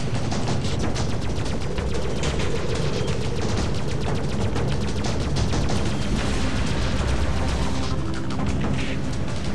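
Dense, continuous gunfire and missile blasts in a Freelancer space dogfight, rapid shots and booms layered thickly and loud throughout with no pause.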